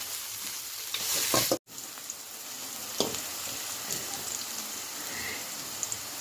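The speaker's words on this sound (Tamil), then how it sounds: "நான் வந்து 2 வெங்காயவை இப்படி நீள நீளமாக கட் பண்ணி வச்சிருக்கிறேன். இதில் போட்டுக்கலாம். இது வந்து நல்லா ப்ரௌன் ஆகணும்." Long-sliced onions frying in a pan for Kerala-style chicken chukka give a soft, steady sizzle, with a brief louder burst and stirring clatter early on, then a quieter crackle throughout.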